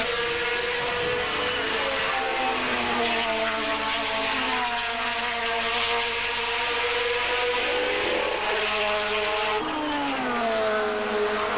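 Formula 3000 single-seater race cars screaming past at Silverstone in 1993, several high-revving engines overlapping and shifting pitch as they pass, loud and continuous with no talk.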